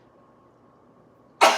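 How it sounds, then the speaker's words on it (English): A single sharp sneeze bursts out at the end after near silence, set off by pepper while wings are prepared in a home kitchen. "That is the pepper making me sneeze."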